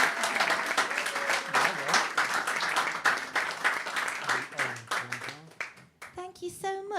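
Audience applause and cheering fill a live music show, loud and continuous, with voices mixed in and a few sustained tones emerging as the clapping fades toward the end.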